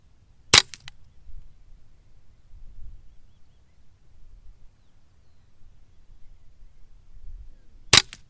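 Two sharp, loud rifle shots from a Ruger 10/22 fired at a paper target, one near the start and one near the end, separated by several seconds of near silence.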